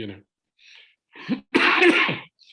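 A few loud, harsh coughing bursts up close, the last one longest and strongest, with short pauses between them.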